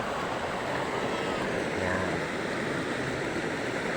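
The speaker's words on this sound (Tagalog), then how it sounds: "Yan ang aming ilog dito sa tabing." A riverside river rushes in a steady, full wash of flowing water that fills the whole stretch evenly and close by, with a brief spoken word over it.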